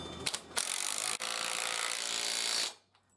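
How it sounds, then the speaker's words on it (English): A drill driver whirs for about two seconds, driving an M10x100 coach screw into timber, after a couple of short bursts, then winds down and stops. "You can tell when it's tight when you hear the tone change in the drill, in the driver"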